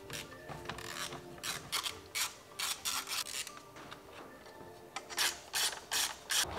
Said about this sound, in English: And now we will remove the intake using 11mm socket.